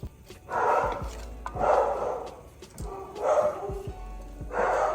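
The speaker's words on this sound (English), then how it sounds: "And there go the dogs." Dogs bark at a distance in four separate bursts while soup cooks on a kitchen stove, with a steady low hum underneath.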